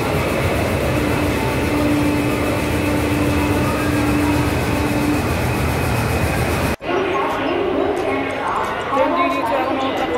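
The Kaviguru Express stands at platform 11 of a busy railway station, with a steady rumble and hum from the train and the crowded platform. A sharp clunk cuts in partway through, and indistinct voices sit in the background.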